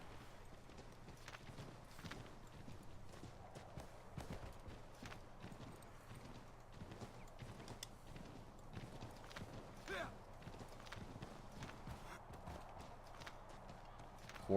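Horse hooves clip-clop steadily in Assassin's Creed III, a continuous quick rhythm of hoofbeats at moderate distance across the whole stretch, with a faint whinny near the end.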